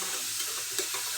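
Onion pieces cooking with salt in a pan, a brief close frying hiss with a faint stirring scrape, no voices.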